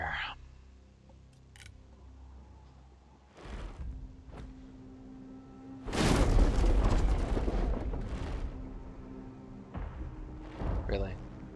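Siege weapons fire at a tower during a Total War Three Kingdoms battle: scattered heavy thuds and impacts, then a long loud rumbling barrage with a few later bursts, heard under intermittent talking.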